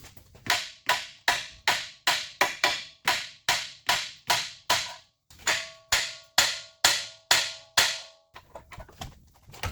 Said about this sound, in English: you smack it with a hammer a couple times, they'll pop out